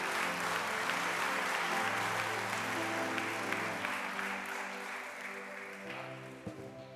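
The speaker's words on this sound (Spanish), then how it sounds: "Denle un aplauso a Jesús" A church congregation at a Spanish-language service breaks into sustained applause, loud and dense at first and gradually thinning over about seven seconds, with organ or keyboard chords held underneath.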